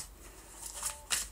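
A brief papery riffle of tarot cards being shuffled, close and soft, with a sharper flutter near the end.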